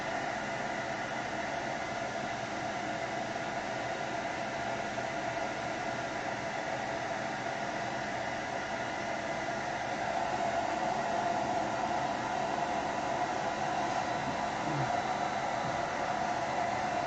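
A hair dryer blows steadily on a motor during a 1962 Catalina build, a constant close whooshing hiss that runs unbroken and grows slightly louder near the end, with no voices.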